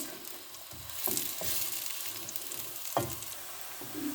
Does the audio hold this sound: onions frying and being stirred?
yes